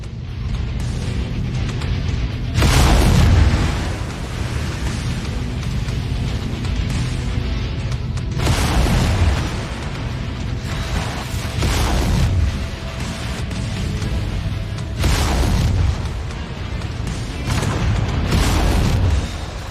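Repeated heavy booms from a generator blowing up in MechWarrior 5, several loud detonations at intervals over a constant rumbling battle bed with mechanical din.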